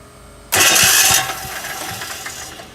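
A diesel engine powering a hydraform brick machine starts with the key: a quiet lead-in, then a sudden loud roar as it cranks and catches, settling into a steady knocking idle.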